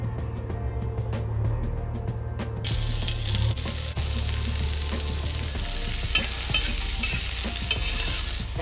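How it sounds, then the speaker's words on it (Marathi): Dried shrimp (sukat) roasting and being stirred in hot oil in a pan, a bright continuous sizzle with scraping stir sounds close up, starting after a few seconds of softer clatter. "आपला सुकट आपली परतून घेतलेली आहे. भाजून आमच्याकडे पहिले अशी भाजून घेतात"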